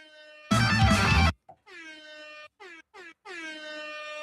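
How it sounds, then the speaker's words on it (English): A loud air horn sound effect fired from a soundboard pad blares in a short burst, followed by several quieter choppy horn-like bursts with stuttering gaps between them. "Dude, I love the fucking air horn."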